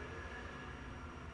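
A train passing outside a window at night, a steady low rumble with continuous broadband noise, faint and distant, with no talk.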